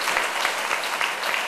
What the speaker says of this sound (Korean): 우리 한 박수로 한번 환영해 주시기 바라겠습니다